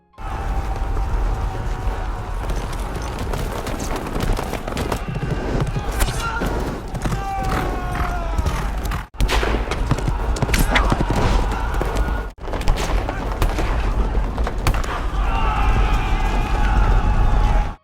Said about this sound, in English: British cavalry soldiers charge through the area, destroying tents and scattering the enemy artillery units